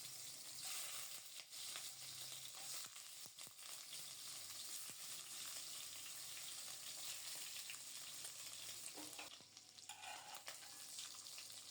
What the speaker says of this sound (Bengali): তেল গরম হলে ডিমের পিসগুলো প্রথমে ভেজে নেব।